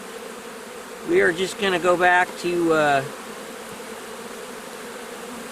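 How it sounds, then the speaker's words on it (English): An opened honeybee hive colony, its agitated bees giving off a dense, steady buzzing throughout while a person talks briefly over it. "See how the bees are getting agitated?"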